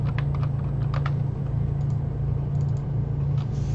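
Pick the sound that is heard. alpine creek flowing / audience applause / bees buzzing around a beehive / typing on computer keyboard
typing on computer keyboard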